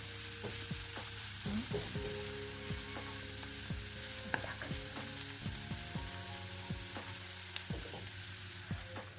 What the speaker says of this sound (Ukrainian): Поки смажиться цибулька, вона ще далі смажиться, ще вона не підсмажилась цибулька з морковкою.